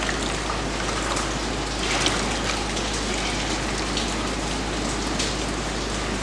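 Fabric is dipped and sloshed in a basin of cold water during batik dyeing, giving a steady close splashing and trickling wash of water with no talk.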